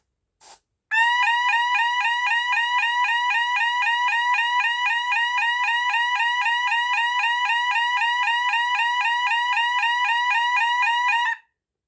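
A loud Hosiden Besson Banshee electronic fire alarm sounder wails continuously at a steady rapid warble for about ten seconds after a brief click, then cuts off abruptly.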